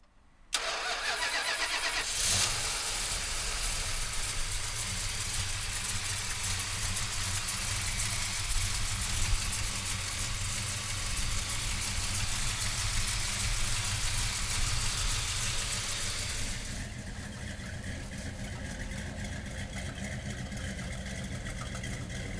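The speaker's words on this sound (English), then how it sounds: "we'll fire this 440 up for you right now" A 1969 Plymouth Road Runner's 440 V8 cranks and catches after a brief starter whir, then settles into a loud, steady, rumbling idle that quiets slightly toward the end.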